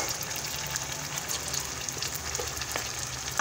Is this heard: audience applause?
no